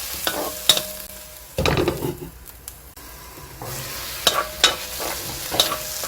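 Squid and shishito peppers seasoned with soy sauce sizzle in a pan, with a spatula stirring and scraping in several separate bursts between quieter stretches of frying.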